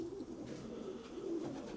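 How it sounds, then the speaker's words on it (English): A seraphim pigeon cockbird coos softly in a loft, a low rolling call repeated twice over faint background noise. "That's the oldest seraphim cockbird that I have."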